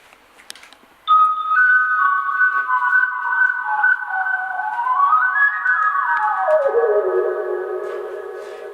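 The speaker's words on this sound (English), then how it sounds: "some whistle sample with a square wave sound" A wind synth plays a whistle sample layered with a square wave: sustained tones that glide up, then sweep down to a lower held note, bright and buzzy, alone after a brief quiet start.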